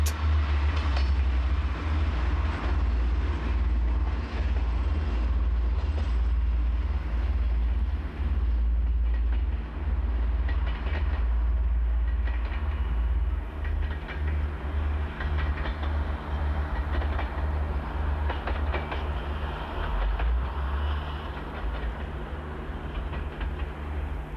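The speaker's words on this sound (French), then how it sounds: "Et le bel automoteur, objet de tant de fierté, se promène à 55 km/h sur le double champignon contemporain des Zengert." A diesel railcar rolls at about 55 km/h over old double-headed rail on the Mende line in the Cévennes in winter. A steady, loud low rumble carries faint wheel clatter throughout, with no voices.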